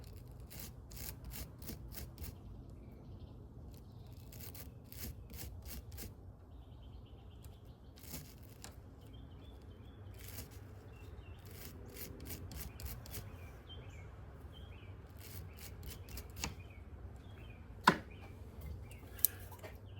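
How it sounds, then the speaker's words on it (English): Rapid bursts of scratchy scrubbing, a wire brush rubbed back and forth against corroded metal on a snowblower in quick strokes, with a couple of sharp taps near the end. "We'll just clean that up a little bit with a wire brush."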